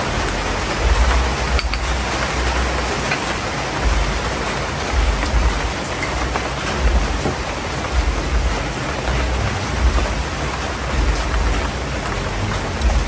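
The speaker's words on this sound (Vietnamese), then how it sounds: "Tháng nắng mà cứ lâu hồi cái mưa ào qua vậy nè" A sudden tropical rain shower pours down during the sunny season, a dense, steady hiss of heavy rain drumming on surfaces, loud and continuous with no talking.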